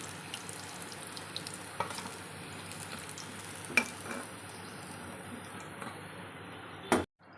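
Chicken koftas fry quietly in oil, a faint steady sizzle with a few small clicks and a louder knock near the end.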